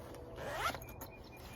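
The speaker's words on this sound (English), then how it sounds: "It's got a back zipper on it too, so you can put more stuff in there." A zipper on a small Rough Enough tool bag is pulled in one quick, close rasping stroke, then clicks softly as it is handled. The sound is quiet and stands alone.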